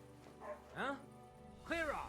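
A dog in the medieval role-playing game Kingdom Come: Deliverance II gives two short, whiny yelping barks close by, with a brief pause between them.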